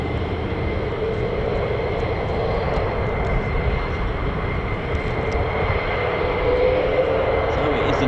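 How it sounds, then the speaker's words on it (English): An F-35 fighter jet taxiing at RAF Lakenheath, a loud steady engine roar and hum held without a break, close by and filling the whole stretch. "F-35 just taxiing now, just crossing runway 24"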